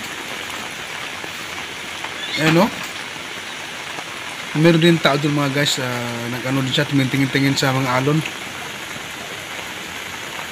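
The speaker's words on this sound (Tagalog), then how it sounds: "So ito na, napakita na yung ulan, lakas ng ulan." Heavy rain from an approaching typhoon hisses steadily by the sea in Silago, Southern Leyte, while someone talks over it in short bursts in Filipino.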